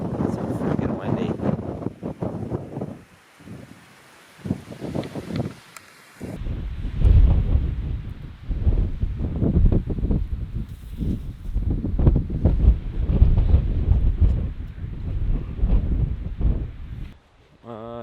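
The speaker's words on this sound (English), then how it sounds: "So freaking windy." Strong wind blows outdoors on a deer hunt, buffeting the microphone with a loud, steady low roar and gusts throughout, while people talk intermittently underneath.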